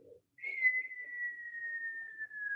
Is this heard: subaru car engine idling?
no